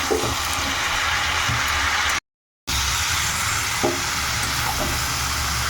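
A fish head and mixed vegetables, seasoned with salt and turmeric, sizzle steadily in a pan as they are stirred and sautéed. The sizzle breaks off in a brief moment of silence, then carries on.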